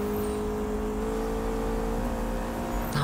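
A McLaren engine in the video game Need for Speed holds a loud, close, steady revving drone for a few seconds, with a brief shift in tone near the end and no voices.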